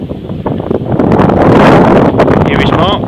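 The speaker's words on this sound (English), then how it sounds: "Apologies if it's a bit windy, as you know, we're quite high up." Strong wind buffets the microphone at an exposed tarp-and-bivvy wild camp on Whiteleaf Cross Hill, a loud gusting rumble that swells in the middle, while someone talks over it.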